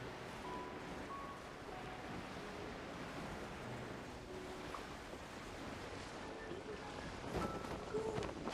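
Sea waves in Genshin Impact wash and hiss in a continuous low rush, soft and fairly distant, with a slightly louder splashy swell near the end and no voices over it.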